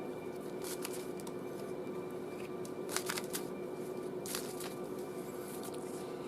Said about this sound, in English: So let's give a last minute shuffle and get our first card